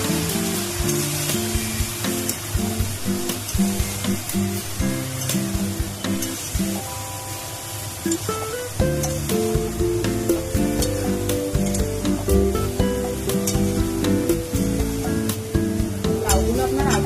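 Chopped bottle gourd sizzles loudly in hot oil seasoned with nigella seeds, chilli, salt and turmeric, a steady crackling fry that stays up close throughout, with soft music playing underneath.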